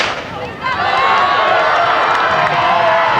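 Loud, dense crowd cheering and shouting, sustained and close, at a cross-country or track meet where a seminary team receives a second-place trophy.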